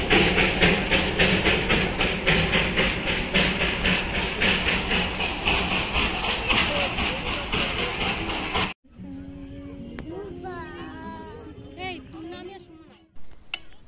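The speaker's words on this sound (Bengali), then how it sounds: "এই যে টয় ট্রেন, এটা হলো কয়লা দেওয়ার টয় ট্রেন।" A coal-fired steam toy train in Darjeeling churns past loudly, its dense rhythmic chugging and rattle filling the first two-thirds before cutting away to quieter scenes with people talking.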